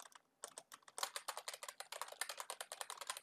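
Fast, even keystrokes clatter on a computer keyboard nearby, with a short pause after the first few taps and then a dense run of crisp clicks.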